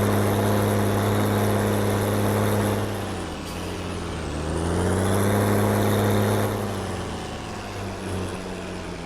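Medium tractor engine idling in Farming Simulator 19, a steady low rumble with a deep droning hum that dips briefly in pitch and level midway before settling back, heard alone and close.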